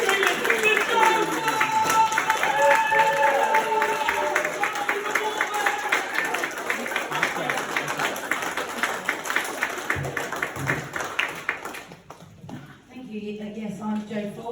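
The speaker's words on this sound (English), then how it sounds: "Start clapping those hands. Start going crazy. Start screaming." A comedy club audience in Faversham claps in a fast, steady rhythm with cheering and shouts, loud and sustained, before it cuts off abruptly near the end and a voice begins speaking.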